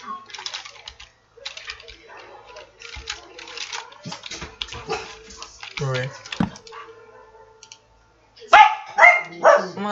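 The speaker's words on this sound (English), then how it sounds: "gosh, my dog won't shut up." A dog barks loudly near the end in a home setting, a short run of sharp barks after stretches of keyboard typing and other scattered household noise.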